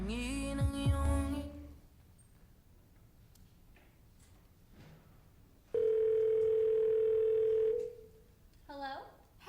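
A telephone line tone sounds on a call, a steady held beep lasting a couple of seconds between stretches of music and talk.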